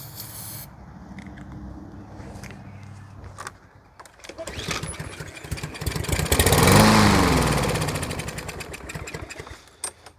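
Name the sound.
engine cranking after a squirt of starter fluid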